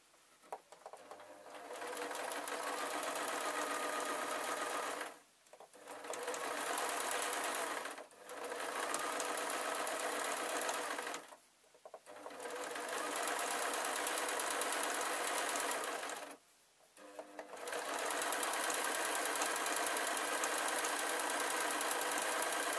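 A sewing machine runs in long, loud, steady bursts while stitching a ragdoll, pausing briefly four times between runs, with no voices over it.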